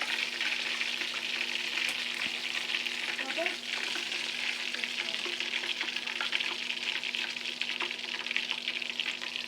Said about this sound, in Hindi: लो और मीडियम फ्लेम पे आपने इसको फ्राई करना है ताकि अंदर से अच्छी तरह से कुक हो जाए